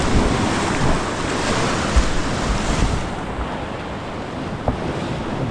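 Strong, fast-flowing water rushes steadily during a fishing outing in Real, Quezon, a loud, continuous broadband roar close to the microphone, with wind buffeting it and no voices.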